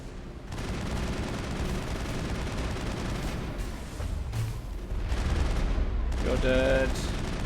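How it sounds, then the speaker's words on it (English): Sustained assault rifle fire in Mass Effect, a dense continuous burst of shots carrying on for several seconds amid game noise, with a voice speaking over it. "Guess I'll use the assault rifle."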